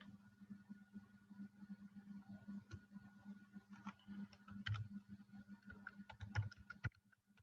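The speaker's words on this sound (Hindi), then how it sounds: "अब अगर मैं फॉर एग्जांपल यहाँ पे लिखता हूँ पाकिस्तान" Keys clatter on a computer keyboard as a word is typed into a field, a run of quick uneven taps over a steady low hum in a quiet room.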